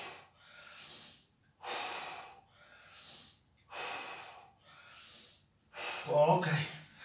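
Heavy, forceful breaths during an exercise training session, broad breathy bursts in a steady rhythm of about five or six exhalations, close and fairly loud, with a short vocal sound near the end.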